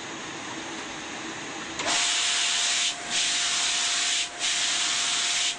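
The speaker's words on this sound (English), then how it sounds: "The backwash system is now cleaning the panels." A rotary drum filter's backwash system sprays the clogged screen panels clean, a loud steady hissing rush of water that starts abruptly and cuts out briefly twice, with a faint steady tone beneath.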